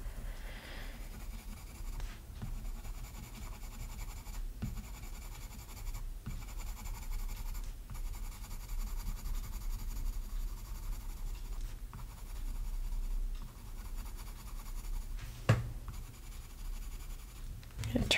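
Colored pencil strokes scratching steadily across a coloring book page while shading fur, a soft continuous scraping with brief pauses between passes, heard up close and quiet.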